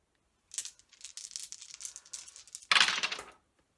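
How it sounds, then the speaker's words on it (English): Small dice rattle and clatter in a quick series of light clicks as they are loaded into shotgun shells, ending with a louder, denser burst of pouring rattles; no one speaks. "So tonight we're going to be loading up"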